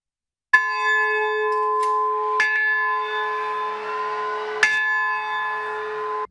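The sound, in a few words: church bell tolling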